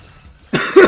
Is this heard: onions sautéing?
no